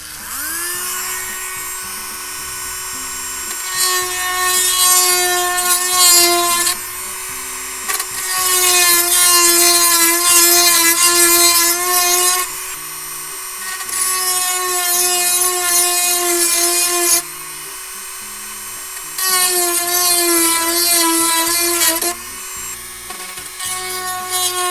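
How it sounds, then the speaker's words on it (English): A high-pitched rotary tool whines steadily as it routes holes in wood, in several long bursts separated by brief pauses, loud and close. "I'm going to use this again, our little friend, the roto tool"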